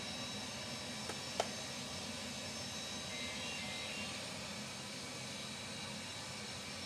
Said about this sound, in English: Let's now crank the right engine.